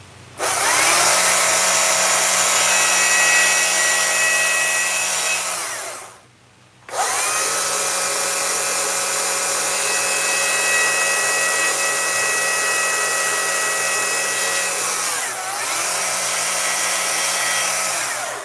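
A loud, steady chainsaw whine runs continuously while carving wood, cutting out briefly twice before roaring back up, close by with no talking.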